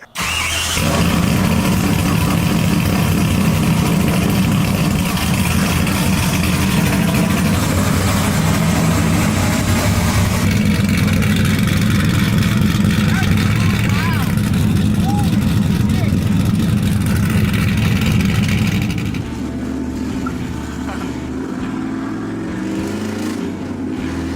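A refurbished vehicle's engine runs loud and steady for about twenty seconds, then drops to a quieter, lower drone near the end.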